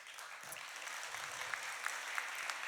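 An audience claps at a school's year-end awards ceremony as a student's family member is called. The applause is faint and steady, with a few sharper individual claps standing out near the end.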